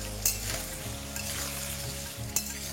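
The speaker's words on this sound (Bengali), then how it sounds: "এরপর ফ্লেমটাকে মিডিয়াম করে আপনাদেরকে ভালো করে ভেজে নিন।" Diced potatoes fry in oil with turmeric and salt over a medium flame, a close, continuous sizzle broken by a couple of sharp stirring clicks against the pan.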